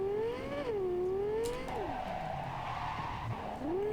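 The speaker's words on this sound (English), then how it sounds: "Brakes actually work." Upgraded brakes on a car in the video game Cyberpunk make the tyres squeal in long, sliding skids, the pitch bending up and down over a low engine drone.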